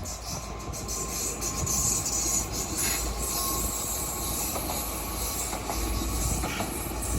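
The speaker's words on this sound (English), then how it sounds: "this regional train whizzing along to Mont-de-Marsan" A regional train in France rushes past at speed, a steady loud roar of wheels on rails with faint clatter and squeal, sustained throughout, no voices.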